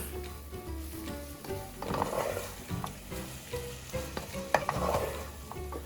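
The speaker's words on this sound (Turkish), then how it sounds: "Ve birkaç dakikada havuçlarımızı kavuruyoruz." Grated carrots sizzle and crackle as they sauté in a hot pan while a utensil scrapes and stirs them, with clattering bursts every few seconds.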